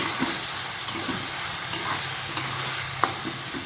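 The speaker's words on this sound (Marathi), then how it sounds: "थोडं 1-2 मिनटं आपण याला परतून घेऊया। बघू, बटाट्याची भाजी आपण छान परतून घ्यायची।" Potato curry sautés in a pan with a constant close sizzle, broken by a few sharp spatula scrapes and taps as it is stirred, with no voices.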